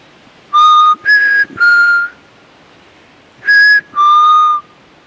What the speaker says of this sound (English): I'll go ahead and give that whistle